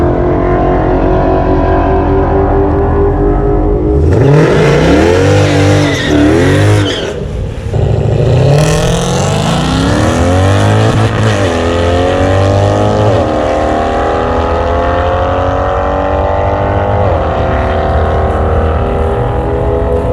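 A 600-horsepower AMG car accelerates hard on a track, its loud engine note rising and falling through repeated gear changes over twenty seconds, close and continuous, with no talking.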